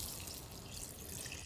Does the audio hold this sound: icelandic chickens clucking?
no